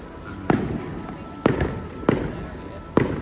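Fireworks burst in Santiago de Compostela, four separate sharp bangs spaced roughly a second apart, moderately distant and echoing over a low outdoor murmur.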